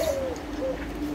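A caged pigeon sitting on its eggs gives soft, low cooing phrases, close and gentle, repeating a few times over a quiet background.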